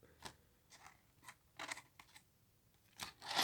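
A deck of tarot cards being cut and shuffled by hand, a handful of soft papery snaps and riffles in quick irregular bursts, close and quiet with no talk.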